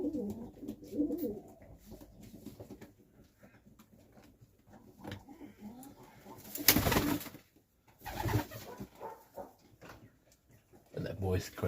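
Serbian Highflyer pigeons, a cock bird and a young hen, coo in soft repeated throaty calls nearby, rising and falling in bursts with a louder flurry midway, while someone talks over much of it.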